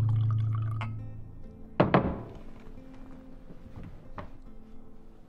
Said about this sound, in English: pouring a glass of whiskey